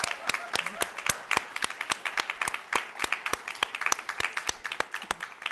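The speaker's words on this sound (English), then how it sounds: "let's give all of the students who participated a very loud resounding of applause" A small audience at a spring student scholarship celebration applauds the participating students, a sparse, distinctly rhythmic run of individual claps heard close and fairly quiet.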